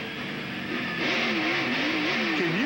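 A NASCAR race car's engine, heard from inside the car in the 2003 UAW-GM Quality 500, drones loudly and climbs as the car spins in turns 1 and 2, its pitch wavering up and down with gear shifts.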